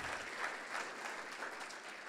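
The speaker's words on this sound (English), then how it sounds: "please, a round of applause for the Washington Post" Applause from an audience at a keynote forum program, a steady dense wash of clapping held at an even, moderate level from start to finish with no talk over it.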